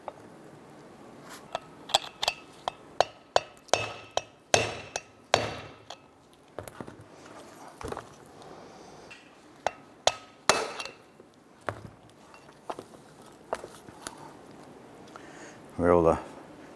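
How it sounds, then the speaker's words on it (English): Sharp metallic hammer taps knocking a front wheel bearing race out of a 1994-2004 Chevy S10 hub, a quick series of loud close strikes that thins into scattered blows, with a short burst of another noise near the end. "We're able to tap out our front race."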